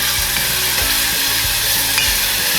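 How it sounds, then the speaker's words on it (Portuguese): Rice sautéing in a thin drizzle of olive oil with a homemade seasoning, a loud, close, continuous sizzle broken by occasional scrapes and knocks of stirring. "A gente dá uma boa refogada."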